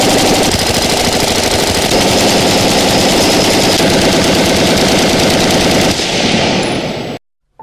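A gun fires loudly in a sustained rapid burst, dense machine-gun-like shots repeating without pause for about seven seconds before cutting off abruptly into silence.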